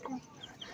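Chickens and roosters on a home farm at dusk, clucking in short, close calls with a few brief higher squawks, fairly quiet throughout.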